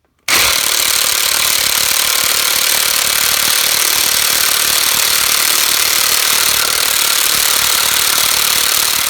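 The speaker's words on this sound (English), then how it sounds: "So we'll try this electric one here. This has 240 foot-pounds, and we'll try it on one of these lug nuts." An electric impact wrench rated at 240 foot-pounds runs nonstop on a car's lug nut, giving a loud, dense, steady hammering buzz that starts abruptly and holds for about nine seconds with no talk.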